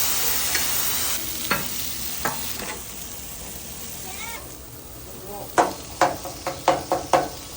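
Steak seasoned with soy sauce, coconut aminos, teriyaki marinade, salt and pepper cooks on a Blackstone griddle, giving a steady sizzle with sharp scraping or stirring clicks that turn louder and rhythmic near the end.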